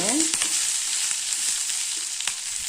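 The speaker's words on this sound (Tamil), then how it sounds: "கருவேப்பிலை நல்லா வதக்கிக்கலாங்க" Curry leaves sauté in a pan for a chutney, giving a continuous bright hiss of frying with occasional stirring clicks and scrapes, close and steady throughout.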